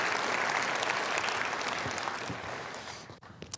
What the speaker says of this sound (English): give a round of applause to all those grantees